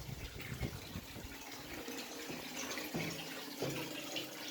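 Cold spring water pours steadily from a fountain tap, a soft continuous gushing and splashing heard close by, with no talk over it.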